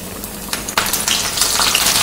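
Curry leaves hit hot oil with shallots, bursting into a loud, crackling sizzle that keeps spitting and hissing up close.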